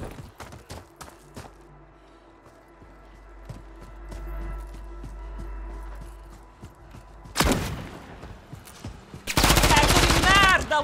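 Gunfire in Call of Duty Warzone: a scatter of light distant shots, then two loud, close bursts of rapid automatic fire near the end, with game voices speaking underneath.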